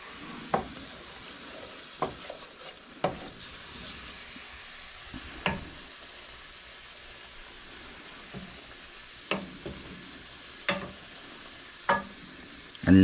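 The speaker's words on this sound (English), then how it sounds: "you stir it around as it absorbs, which kind of breaks the rice down and makes it cream up a little bit" Mushroom risotto rice stirred in a pan as it soaks up broth, a soft sizzling bed broken by sharp spoon scrapes and taps every second or two, close and alone.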